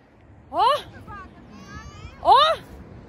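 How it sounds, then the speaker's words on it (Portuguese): Two drawn-out, wavering cat meows sound from woodland undergrowth, each rising then falling, spaced about two seconds apart and moderately distant, with faint background hubbub between them. "Esse deve ser um gato."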